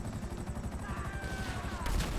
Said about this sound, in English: Whoa, dude, that's missiles.